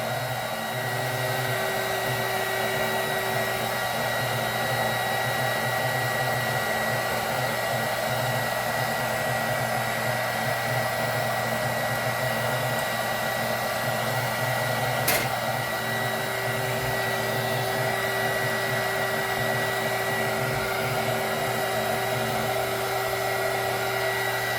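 A heat tool blows a steady, unbroken whir like a hairdryer, running loud and close for the whole stretch with a constant hum beneath and no talking.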